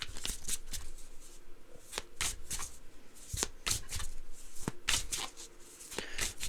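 Tarot cards being shuffled by hand in a quiet room, a steady series of crisp riffling bursts and slaps repeating over several seconds, close and moderately loud with no talking.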